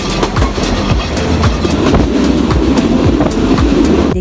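A passenger train rolls along on a rainy day in northern Bangladesh, its wheels beating a loud, steady clickety-clack rhythm over a deep continuous rumble, heard from on board.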